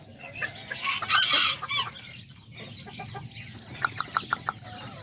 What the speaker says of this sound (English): there's my little white rooster that I had left outside.